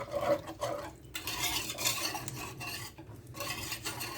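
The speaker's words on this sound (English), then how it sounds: "And I'm stirring it. I'm stirring the lumps out." A spoon stirs a flour and milk white sauce in a pan, with repeated scraping and rubbing strokes against the pan in an uneven rhythm, close and fairly quiet, with no talking.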